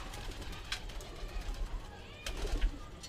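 Kalpari and other Madrasi pigeons coo softly and faintly in a loft, a few low murmuring calls spread across a quiet background.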